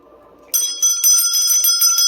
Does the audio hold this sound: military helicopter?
no